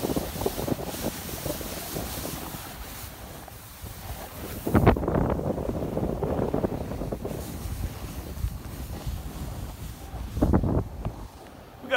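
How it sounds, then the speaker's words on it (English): Light wind during snow kiting with a 17 m kite in 3 to 5 knots, buffeting the microphone as a continuous broadband rush with stronger gusts near the middle and end. "Wind's gone a little light."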